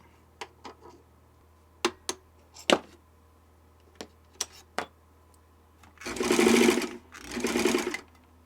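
A Kenmore sewing machine fitted with a 3D printed gear gives scattered sharp clicks and ticks, then runs in two short, steady mechanical bursts of a couple of seconds each, close up with no talking.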